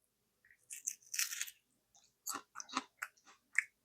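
Close crunchy bites and chewing of a raw Cipollini onion, several crisp bursts in separate clusters with quiet pauses between.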